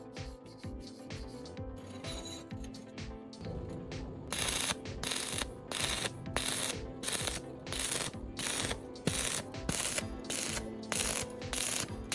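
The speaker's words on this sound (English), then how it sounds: "I'm using a slag hammer and a wire brush to clean the welding slag" Steady scraping and rasping of a wire brush cleaning welding slag off metal, in repeated strokes that grow louder and more regular partway through, with no voices.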